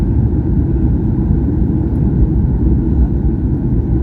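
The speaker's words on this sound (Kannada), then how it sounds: "ನಮ್ಮ ಫ್ಲೈಟ್ ಕೆಳಗೆ ಇಳಿತಾ ಉಂಟು" A passenger flight descending toward landing, heard from inside the cabin as a steady, loud, low engine drone with constant airflow roar and no breaks.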